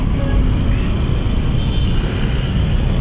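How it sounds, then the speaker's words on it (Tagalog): Dense, heavy road traffic in Manila with a continuous low rumble of vehicles passing nearby, steady and loud throughout. "Grabe traffic."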